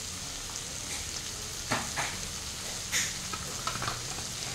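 A spice paste of turmeric, coriander and cumin powder with jaggery fries gently in a pan for toor dal, a quiet steady sizzle with occasional spoon stirs and scrapes.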